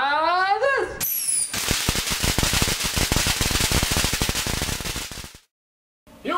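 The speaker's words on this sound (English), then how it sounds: "just about to set off these wicked cool pyrotechnics" A bag of fireworks goes off at close range: a dense, loud, rapid crackle of firecracker pops lasting several seconds, followed by a short silence.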